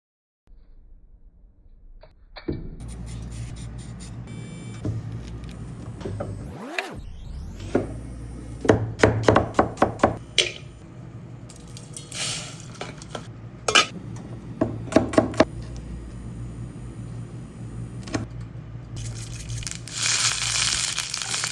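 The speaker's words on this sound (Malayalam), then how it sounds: "ഉള്ളിയും ഇഞ്ചിയും പച്ചമുളകും കൂടി ചതച്ചിട്ട്" Onion, ginger and green chilies are crushed together, making close, crunchy grinding and mashing broken by repeated sharp knocks and pounding strikes, steady throughout with no talk.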